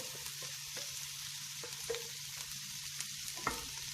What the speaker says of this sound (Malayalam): ഇതെല്ലാം ഒന്നിച്ചിട്ട് നന്നായി വഴറ്റിയെടുക്കാം.